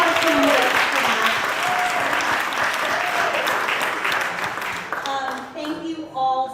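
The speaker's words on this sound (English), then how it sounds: "let's give a round of applause for all of our candidates for that" An audience applauds for a group of candidates, dense steady clapping that fades toward the end as a voice begins to talk over it.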